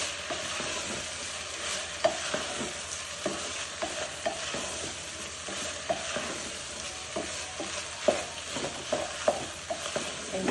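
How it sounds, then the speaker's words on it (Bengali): Polao rice frying in a pan while a spoon stirs it, giving repeated scraping clicks over a steady, close sizzle with no talking. "এরপরে পোলার চালটা একটু ভেজে নেবো"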